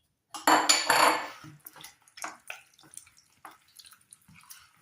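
Chicken wings and potatoes are tossed together in a baking tray, giving a burst of wet squelching and clattering up front, then a series of softer irregular knocks and slaps, close and with no speech.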